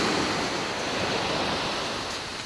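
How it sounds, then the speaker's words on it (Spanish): Rough sea surf on the coast during a sea bass fishing outing makes a steady, full roar that slowly eases, with no voices. "Ahora mismo mar vivo."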